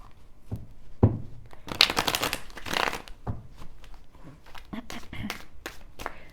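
Tarot cards are shuffled by hand in quick, crisp riffling bursts with a denser flurry near the middle, close and fairly quiet, with soft taps between.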